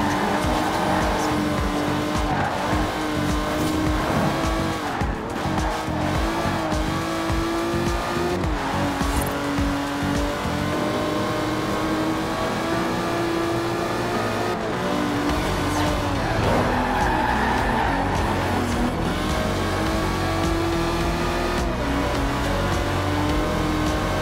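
An Aston Martin Superleggera races in Forza Horizon 4, its engine revving up and down through gear changes with tire squeal and skidding over a steady layer of background music.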